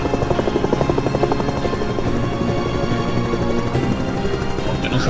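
Helicopter in the intro of a horror video game, its rotor beating in a fast, steady chop that stays loud and close throughout.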